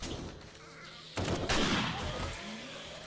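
Gunfire in the zombie survival game 7 Days to Die, with a sudden burst of loud, sharp shots starting about a third of the way in, followed by a rattling tail of further fire over quieter game ambience.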